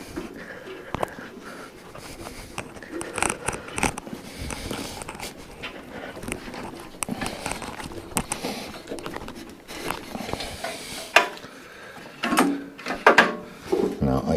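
A belt is worked onto a pulley by hand, with irregular clunks, scrapes and mechanical rattles and a few louder knocks toward the end. There is no talking.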